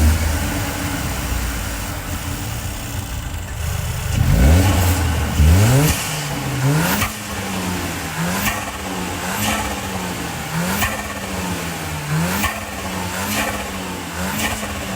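Mercedes-AMG A35 with an Eventuri intake, revved repeatedly from idle: about seven sharp, loud rises and falls with a fluttering edge, close up, no talking.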